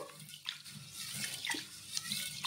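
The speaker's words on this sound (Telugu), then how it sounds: "ఇలా వాటర్ వేసేసుకొని 2-3 సార్లు అయితే కడిగేసుకుందాము." Soaked green gram and rice being rinsed in water by hand, with repeated close splashing and swishing sloshes in short uneven bursts.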